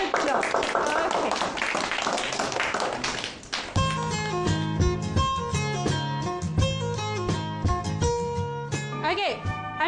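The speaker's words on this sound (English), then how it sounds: "Give Alia a clap" Pupils in a Year 2 English class clap for a classmate in a short burst of applause, followed by bright music.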